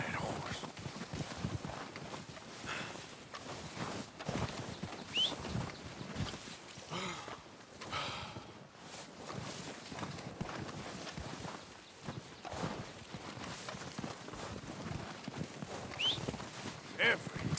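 Horse hooves clip-clop steadily through Red Dead Redemption 2 gameplay, a continuous walking rhythm of soft thuds mixed with game ambience and occasional faint bird chirps, with no clear speech over it.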